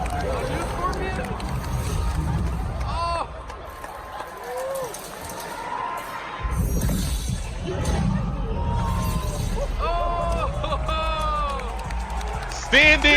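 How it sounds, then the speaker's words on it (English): A large crowd cheers, claps and roars at the Mortal Kombat 11 reveal. The noise stays loud and dense throughout, with excited shouts rising over a steady wash of applause. "You heard the crowd when this joint was announced"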